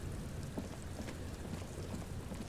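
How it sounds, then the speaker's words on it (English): Steady rain falls in the video game Disco Elysium, a continuous dense hiss of drops with no pauses and no voices over it. "It's raining."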